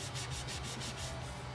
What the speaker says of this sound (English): I prefer sanding blocks myself